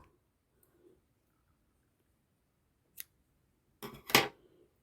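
Scissors snip the end of crochet yarn in one faint cut followed by a louder double snip, close by in an otherwise quiet room.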